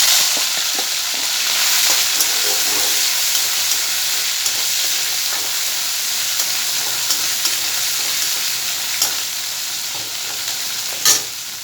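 Lati fish frying in a pan, with a loud, dense, steady sizzle throughout and occasional small crackles and pops close by.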